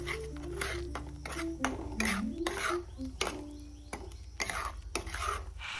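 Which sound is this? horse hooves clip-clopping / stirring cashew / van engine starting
stirring cashew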